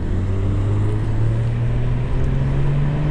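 Inside a Cadillac CT4-V Blackwing on the road, the engine drones steadily and loudly with a slowly rising pitch, alone with no talk.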